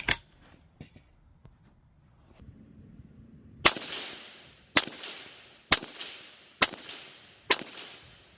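Five sharp, loud .22WMR rifle shots with CCI Maxi Mag ammunition crack out at a steady, roughly one-second spacing, each with a quick ringing decay, after a few fainter clicks and handling noises.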